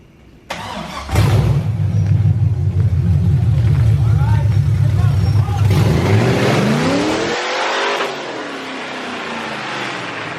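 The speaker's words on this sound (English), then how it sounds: "That should hopefully capture the burnout." A Toyota Cressida fitted with a V8 starts, idles with a loud deep rumble, then revs hard as the tires spin in a burnout before the engine cuts out abruptly; people talk nearby.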